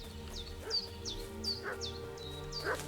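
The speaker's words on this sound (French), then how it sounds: "J'entends un chien." Repeated yipping barks from a dog in the video game Kingdom Come: Deliverance II, five or six short calls spaced about half a second apart, fairly faint against a low background hum.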